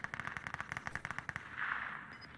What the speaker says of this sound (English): We have gunshots going crazy next to our left-hand side